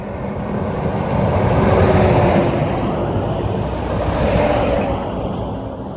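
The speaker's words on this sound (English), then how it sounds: "Here comes a truck." A truck passes close by on an open road, its engine roar and tire noise rising to a loud peak, easing, then swelling again as traffic continues, with no voices.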